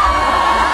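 A large crowd at a beach party on a cruise cheers and shouts loudly and continuously, a dense close wall of voices with no single speaker standing out.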